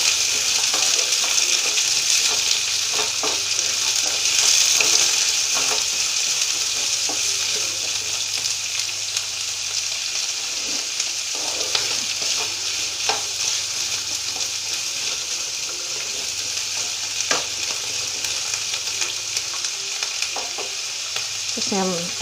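Ingredients for chole fried in a pan, a loud steady sizzle with intermittent scraping and stirring clicks from a spoon, close up and continuous.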